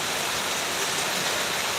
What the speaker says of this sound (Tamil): எவ்வளோ மழை பெய்யுது நல்ல மழை